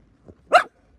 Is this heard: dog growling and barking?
yes